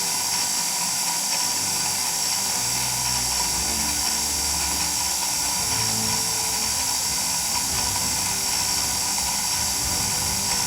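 A welder runs with an automated weld weaver oscillator on a custom TIG/MIG setup, giving a loud, constant high whine with a steady hum beneath it and no pause.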